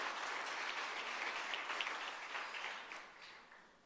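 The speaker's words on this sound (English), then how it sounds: "Can we have an applause," Steady audience applause at a workshop and career expo, greeting a deputy principal: dense, even clapping from a crowd that holds for a few seconds and then tapers off.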